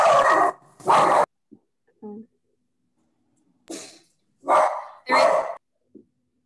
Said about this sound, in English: Oh, your little dog, yeah.